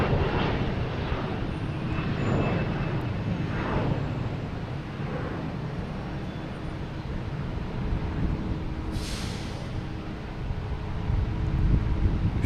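A landing airliner arrives at Boston Logan Airport with a broad, continuous jet roar and rushing wind that swells and stays loud throughout, with no voices.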